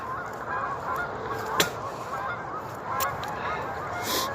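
Several geese honk outdoors, a few sharp calls rising above a steady background hiss, one louder honk standing out among fainter ones.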